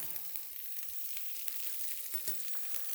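Acelgas (chard) sizzle in a hot pan with a little salt, a soft steady crackle of frying with occasional small pops, no voices.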